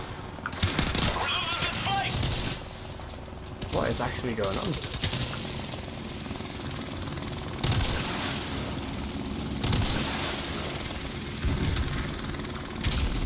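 Machine-gun fire and a helicopter in Modern Warfare Remastered, with sustained rattling bursts over a steady rotor drone, loud throughout, while someone talks over it.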